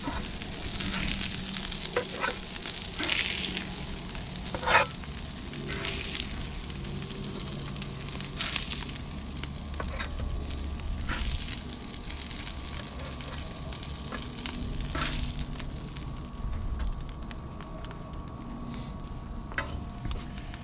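Burgers with melting cheese sizzling and steaming on an outdoor grill on a cold, windy day, a continuous crackling sizzle with scattered pops and clicks, fairly close and unbroken by talk.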